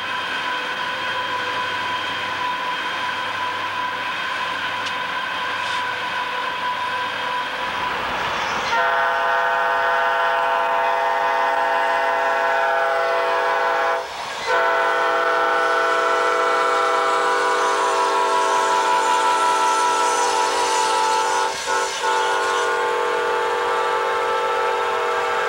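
A train rumbles steadily past at length, its horn sounding with sustained tones over the rolling noise of the cars.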